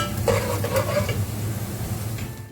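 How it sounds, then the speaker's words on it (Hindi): Spices and garam masala sizzle and fry in a pan while being stirred, with scraping of the spoon over steady close sizzling for a few seconds. "और फिर इसको करेंगे फ्राई।"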